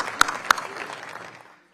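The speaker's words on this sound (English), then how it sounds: "can we give her a big round of applause here?" Brief burst of applause from an audience at a Patriot Day remembrance breakfast, with a couple of sharp claps standing out before the sound thins and fades out.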